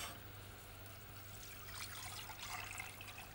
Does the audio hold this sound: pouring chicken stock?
yes